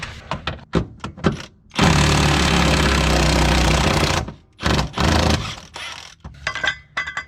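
A ratcheting socket wrench working 18 mm bolts under a BMW drift car: quick clicking bursts at the start, a long steady whirring stretch, then more intermittent ratchet clicks, close and fairly loud.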